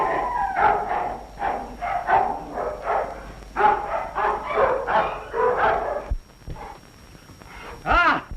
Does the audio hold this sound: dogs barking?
yes